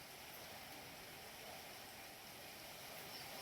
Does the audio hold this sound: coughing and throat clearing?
no